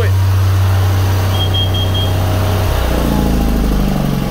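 A small engine runs indoors in an open room, giving a loud steady drone with a strong low hum that shifts in pitch partway through as it keeps idling close by.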